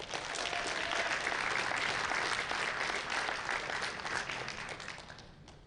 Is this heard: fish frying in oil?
no